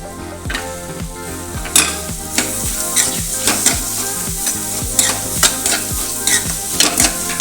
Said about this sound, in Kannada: ಇವನ್ನೆಲ್ಲ ಹಾಕ್ತೇನೆ ಫ್ರೈ ಮಾಡೋಕೆ